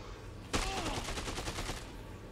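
Video game gunfire erupts suddenly and keeps going as a rapid fusillade of crackling shots, loud and close, with no talking over it.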